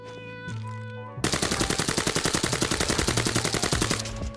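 Rapid automatic fire from an AK-74 rifle in the shooter game Arena Breakout Infinite, a loud sustained burst of evenly spaced shots lasting several seconds after a brief lead-in of ambient game noise.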